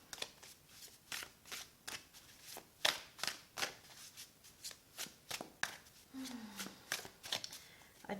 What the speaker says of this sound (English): we will shuffle and see what cards pop out